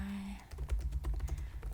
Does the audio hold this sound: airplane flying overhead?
no